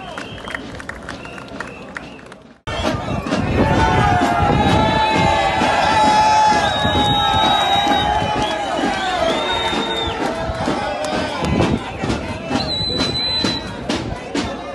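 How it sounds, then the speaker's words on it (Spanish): Workers from a car wash and lubrication union in Reynosa, Tamaulipas, are greeted at a protest rally by a loud crowd roar of cheers, whistles and clapping. It bursts in after a quieter opening and stays heavy and sustained to the end. "fuerte el aplauso para ellos."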